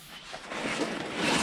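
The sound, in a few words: wire wheel cleaning bolts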